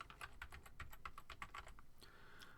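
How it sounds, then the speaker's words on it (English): A computer keyboard clacks as a project name is typed into 3D software, a quick run of close, crisp key taps that slows to a few scattered presses toward the end. "I'll just type in a name for it."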